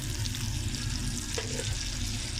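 Oil and butter heating in a pan for dhaba-style masoor dal tadka, producing a dense, continuous close sizzle with faint low rumble underneath and a small scrape midway.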